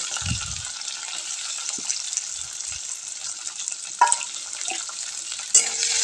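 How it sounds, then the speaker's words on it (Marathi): Smashed potatoes, green chili pieces and curry leaves sizzle steadily in hot oil for a fasting dosa, a continuous bright frying hiss with occasional low stirring knocks and a couple of sharper clinks near the end, no talk. "आणि छान असं परतून घ्यायचे तेलामध्ये"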